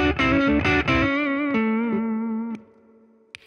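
An electric guitar played through a Distortion 3 pedal chugs out a few quick, saturated chords, then one held chord rings and slowly fades, ending with a faint pick click; loud, close and without talk.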